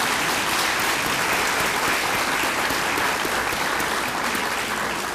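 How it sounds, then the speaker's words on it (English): A crowd at a senior town hall meeting gives a police department a sustained round of applause, dense and even from start to finish, loud with nothing else over it. "Let's give our police a big round of applause."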